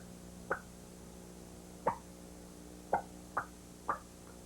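A person imitates a soft hen turkey alarm putt, five short, quiet popping notes at irregular intervals over faint room hum, with no talking.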